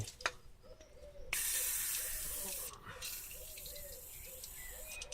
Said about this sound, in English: spray some WD-40 into that one, and that one.